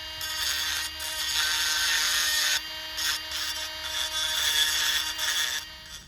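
A POWERWORKS 8V cordless rotary tool cuts with a bit, giving a steady, close, high-pitched whine and grinding rasp for about six seconds, with a few brief dips in pitch as the load shifts.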